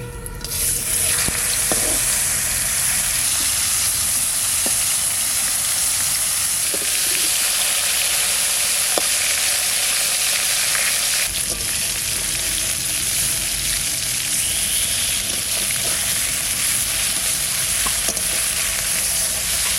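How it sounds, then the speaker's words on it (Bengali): River Baush fish fries in hot mustard oil with a loud, steady, close sizzle and hiss that runs unbroken throughout, with faint scattered pops and no voices. "মাছ ভাজার জন্য সর্ষের তেল দিচ্ছি।"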